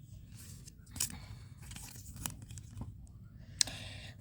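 A deck of tarot cards is shuffled by hand in a few quick, crisp riffling bursts, separated by short pauses, close and fairly quiet.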